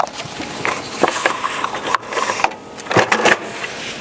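An inkjet printer running a sticker print for print-and-cut, a busy mechanical whir with repeated shuttling clicks and short bursts, fairly close and steady over several seconds.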